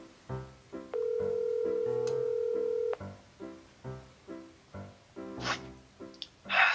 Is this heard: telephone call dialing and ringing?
yes